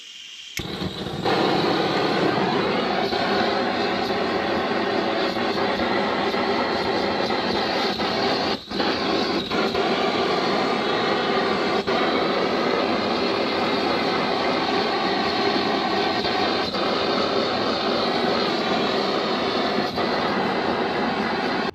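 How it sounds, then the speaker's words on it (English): An old blow lamp roars steadily while heating a bill hook's tool handle, a constant close, loud hiss-and-rush flame sound lasting throughout with only brief dips. "let's give it one last warming up with the old blow lamp"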